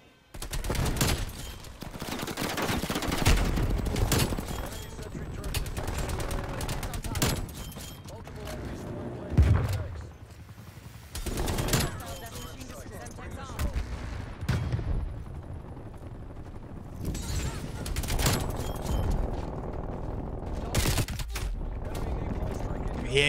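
A C58 rifle fires in Call of Duty in repeated sharp bursts with short gaps between them. Game effects and talk run beneath the shots.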